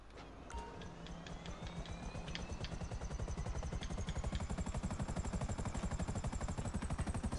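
A military attack helicopter in GTA flies close by, its rotor chopping in a fast, steady pulse that grows louder and denser after the first few seconds, with a high whine riding above it.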